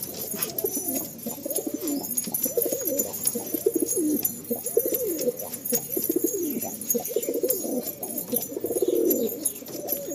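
Pigeons kept for sale at a seller's place in Garia coo repeatedly in soft, overlapping, throaty calls from several birds nearby, continuing throughout with no clear talk.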